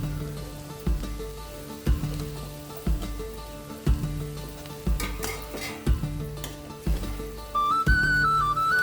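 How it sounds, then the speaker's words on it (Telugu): Chopped cabbage, carrot and beans stirred in a hot kadai, a spatula tapping and scraping in a regular, roughly once-a-second rhythm over a soft sizzle, with a low background tone and no speech. "తరిగిన క్యాబేజీ, క్యారెట్, బీన్స్ లను కడాయిలో వేసి మళ్లీ కలపాలి"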